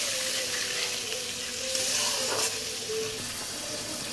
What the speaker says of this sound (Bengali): একটু সামান্য জল দেব যাতে পুড়ে না যায়